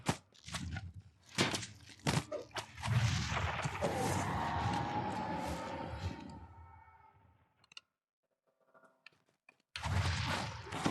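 Necrotic blast spell impacts from the Pale Master in Dungeons and Dragons Online: a dense run of heavy booming hits and clicks that rumbles on, fades to near silence, then bursts back loudly.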